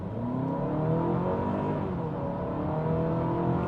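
Hybrid car with an eCVT accelerating in normal mode from a rolling start, heard from inside as a steady, loud engine drone and whir that rises smoothly in pitch without any stepped gear changes.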